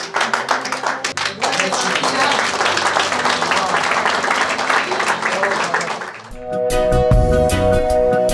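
Church congregation clapping in rhythm during a Sunday service, dense sustained applause with singing and voices throughout, ending in a brighter burst of claps and music.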